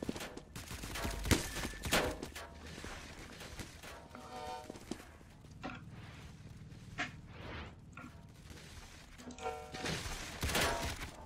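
Enemies fire at the player in the Roblox game Evade, with scattered bursts of gunfire and sharp cracks mixed with clattering game effects. Volume is moderate throughout and no one talks.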